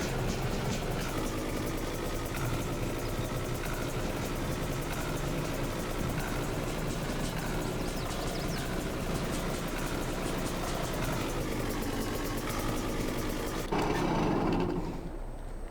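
A dirt bike engine idles steadily in Farming Simulator 22, a constant low rumble that runs unbroken and then cuts off near the end.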